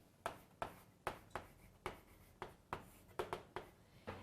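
Chalk or marker strokes on a board, about a dozen sharp, evenly spaced taps and scrapes in a steady rhythm, close and fairly quiet, with no talk.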